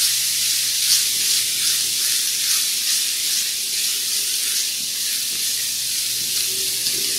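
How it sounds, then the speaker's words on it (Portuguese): Onion sizzling in a pan for a fish in tomato sauce dish, a steady soft hiss of frying that carries evenly throughout with no talk. "Vamos fritar a cebola aqui um pouquinho."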